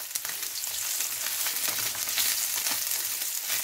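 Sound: trout frying in a pan

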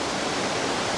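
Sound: waterfall in Hakkari, Turkey

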